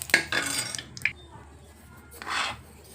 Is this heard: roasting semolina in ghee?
yes